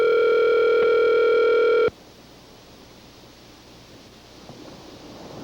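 Phone call ringing tone: one steady electronic tone held for nearly two seconds, then it abruptly stops, leaving a faint hiss of line noise.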